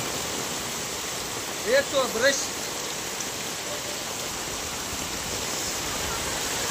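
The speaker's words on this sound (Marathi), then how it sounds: "लोकांच्या घरात पाणी चाललंय" Continuous broad rush of floodwater flowing into houses from uncleaned drains, steady and loud, with a brief voice-like tone partway through.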